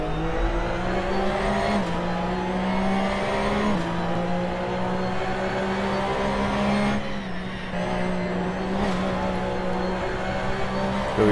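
Race car engine in an Assetto Corsa online race, a loud steady droning whine that holds pitch, dips briefly at shifts and rises again, with no talk over it.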